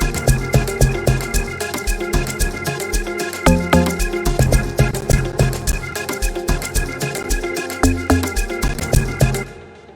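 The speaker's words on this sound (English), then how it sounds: "vintage organs inside Contact 5" Vintage organ sample played from a Kontakt 5 library in an Amapiano production, with sustained chords under a busy rhythmic pattern of percussive hits, loud and continuous, ending with a quick fade.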